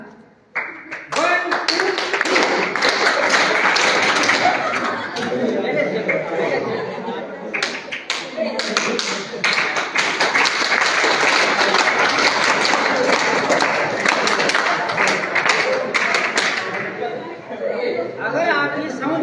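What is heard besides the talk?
children clapping together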